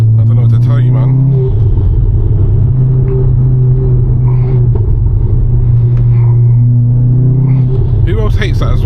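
Volkswagen Golf R on the move, its exhaust a loud, steady low drone and rumble throughout, with a brief rise toward the end and faint voices at the edges.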